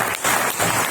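Audience applause at a business meeting: a brief, dense burst of many hands clapping together, loud and steady for under a second.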